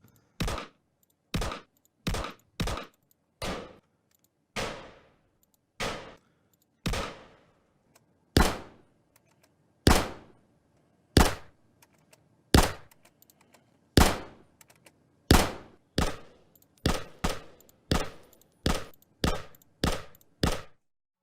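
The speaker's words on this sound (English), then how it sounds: "he layered them over one another and created a unique firing sound" Star Citizen weapon sound effects, a long series of punchy, sharp gunfire blasts, each decaying quickly, fired singly and in quick clusters, loud and close with no voices.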